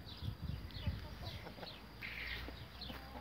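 A young Brahma rooster chick clucks softly in short, scattered bursts, close but faint, among quiet background farmyard noise.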